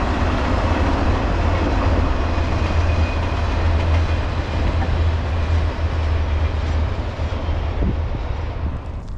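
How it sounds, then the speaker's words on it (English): A short CSX or NS train, 11N, rumbles past loudly and steadily in New Jersey, with a heavy low roar and faint wheel clatter. "Train 11N. Got my last train for the day."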